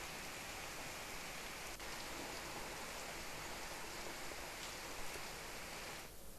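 Heavy rain pours down steadily under dark clouds, a dense, constant hiss of falling water, fairly faint and even throughout.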